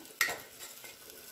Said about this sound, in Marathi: मोठ्या आचेवर कांदा व्यवस्थित परतून घ्यायचा